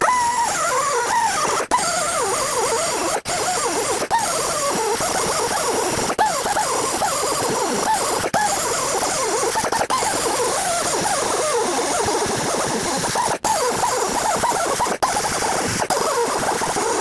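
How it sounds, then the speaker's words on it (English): A cutting tool grinds steadily on a rusted exhaust band clamp bolt under a 2007-2010 Chrysler Sebring. The harsh, dense noise runs continuously for the whole stretch, broken only by a few brief cutoffs. "So what I'm gonna do is try and cut this bolt here."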